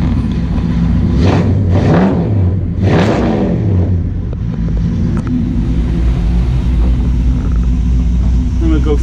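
Engine of a 1959 Ford F100 pickup idling, a loud, steady low rumble heard close up, with a few swells early on and no talk.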